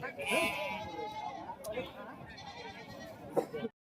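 Goats bleat at a busy traditional livestock market in Kakon. Several loud, wavering bleats stand out near the start and near the end, with people talking over them throughout.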